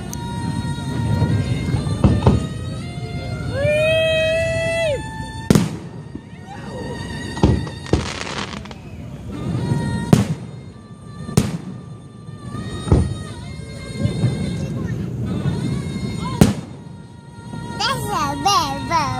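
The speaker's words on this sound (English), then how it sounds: "This is big. That's a big firework." Irregular Fourth of July fireworks bangs go off every second or two, with whistles and crackle, while people chatter and call out over them.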